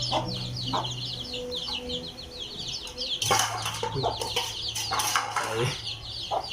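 Chickens on a rural farm cluck and call continuously, with bursts of louder squawking and wing flapping midway, close by and busy throughout.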